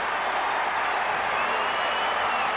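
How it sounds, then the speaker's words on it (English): A stadium crowd at an American football game roars after a leaping 15-yard catch, a steady, dense wash of cheering and applause at even loudness throughout, with no voices standing out. "that gets the crowd going"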